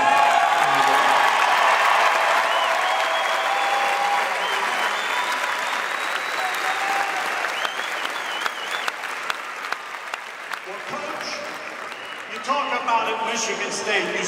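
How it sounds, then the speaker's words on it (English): An auditorium crowd at a football team celebration gives sustained, loud applause for the coaching staff's wives as they stand, steady clapping throughout with scattered cheers near the end. "I'd like the coaching staff's wives to please stand up so we can recognize you and give a round of applause."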